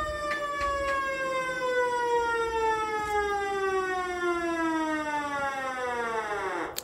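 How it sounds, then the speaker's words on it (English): A loud siren wails steadily, its pitch slowly falling over several seconds before cutting off abruptly, with a few faint knocks in the background. "Sorry about the siren."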